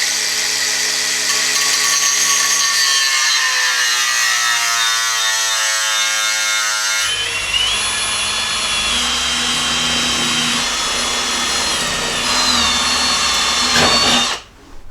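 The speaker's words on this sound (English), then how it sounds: "Alright, so I got the holes drilled." A power drill boring holes for lower door armor on a Jeep Cherokee XJ whines loud and steady, its pitch shifting midway, then cuts off at the end.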